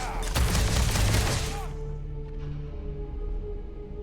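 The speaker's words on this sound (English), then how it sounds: "We're just gonna run across this and shoot him." Rapid automatic gunfire in the Starfield video game, a dense loud burst lasting over a second, then fading into a low rumbling ambience with faint distant shots.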